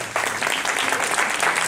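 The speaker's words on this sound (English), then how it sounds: "would you please stand up and let's give you a round of applause." A room full of people gives a sustained round of applause. The clapping is steady and even, with no voices.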